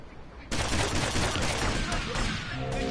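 Dense, sustained gunfire from the video game GTA Vice City Definitive Edition erupts after a quiet half-second and continues loudly as a rapid, overlapping barrage throughout.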